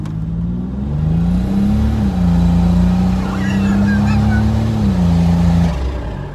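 Turbocharged GMC Typhoon engine running steadily loud and close, a low droning hum that holds one pitch, eases up slightly and dips twice, with a faint whistle above and no voices.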